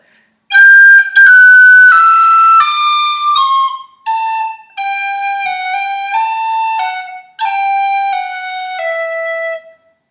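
A bright tin whistle plays a short tune in clean phrases, notes ornamented with quick cuts and smooth slurs, close and loud with brief pauses between phrases.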